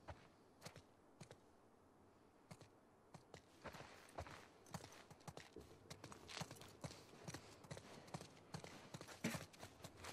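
Horse hooves clip-clopping in The Last of Us Part II video game, a series of quiet irregular hoof strikes that grow busier and denser toward the end, with no voices over them.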